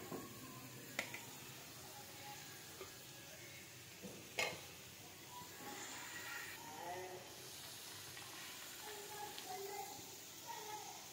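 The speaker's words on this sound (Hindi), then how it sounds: "माशाल्लाह पकौड़े मैंने इसमें डाल दिए, अब और मैंने डाल दिए फ्राई पैन में निकालने के लिए" Pakoras fry in a pan with a quiet, steady sizzle and hiss, broken by a few sharp pops and light clicks from stirring.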